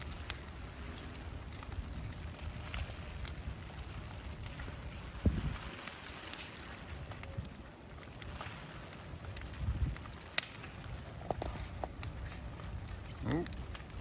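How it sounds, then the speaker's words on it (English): Rain falling outdoors beside a burning house, a steady broadband hiss mixed with gusty wind buffeting the microphone and scattered sharp knocks and crackles throughout. "Getting some more good rain though, so that's good."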